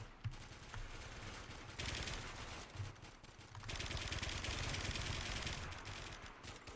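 Gunfire in the first-person shooter Warmode, rapid automatic bursts rattling almost continuously at moderate distance, with a short lull before a denser, sustained volley.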